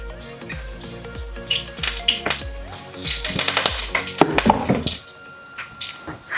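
Polish kotlety fry in avocado oil in a tall pot, with busy sizzling and crackling broken by clinks and stirring knocks, over faint background music.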